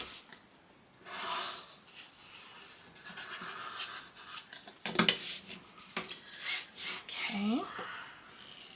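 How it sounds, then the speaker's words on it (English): Folded paper is pressed and rubbed down against chipboard with a burnishing tool while a Christmas album and keepsake box is being made. Short, close, scratchy strokes come in uneven bursts, with a few clicks and light handling noises in between. "fold over and burnish down"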